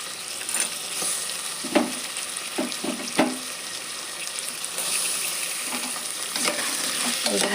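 Soaked green peas sizzle in hot oil for a vegetable pulao, a steady frying hiss broken by scraping stirs and occasional clinks of a spoon against the pan.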